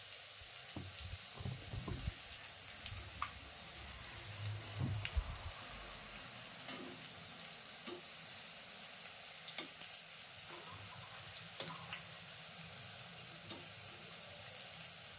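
Fritters of soaked urad dal and rice batter deep frying in hot oil, giving a continuous close bubbling sizzle with small crackles and a few soft clinks.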